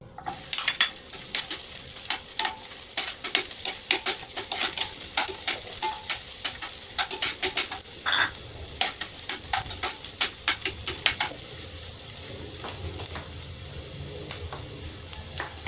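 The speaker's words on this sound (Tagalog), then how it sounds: "Konting mantika guys. Tapos, yung sibuyas." Onion frying in a little cooking oil, a loud continuous sizzle and hiss close by, with frequent stirring clinks and scrapes of a utensil throughout, no talking.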